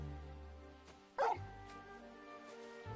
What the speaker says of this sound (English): Oh, he barked.